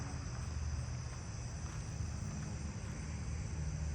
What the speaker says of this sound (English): Let's see if I hear that cricket here.